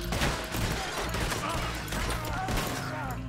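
Chaotic gunfire during a shootout in Rhodes in Red Dead Redemption 2, overlapping shots and crackling bursts mixed with game sounds and voices throughout.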